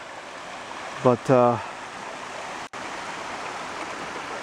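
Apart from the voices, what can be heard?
water running over rocks in a stream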